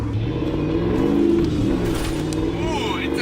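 A 240-horsepower car on brand-new Nitto tires revs and accelerates hard through a corner, its engine drone loud and close with rising pitch sweeps, while a voice talks over it.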